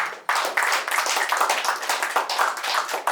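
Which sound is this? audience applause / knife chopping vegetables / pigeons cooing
audience applause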